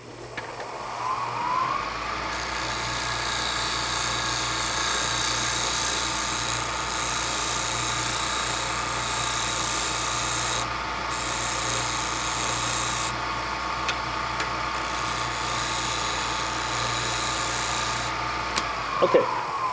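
Wood lathe spinning a natural edge bowl blank during cleanup cuts before forming the tenon, a steady loud motor hum and whir running throughout with a continuous scraping tool noise, no pauses.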